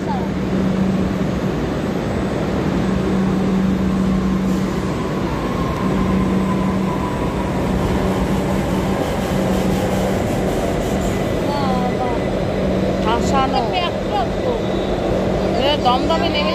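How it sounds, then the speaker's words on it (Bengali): A metro train pulls into a station with a steady low rumble and hum beneath constant crowd chatter, and brief high squeals and tones appear near the end as it arrives. "ট্রেন এখন আসছে"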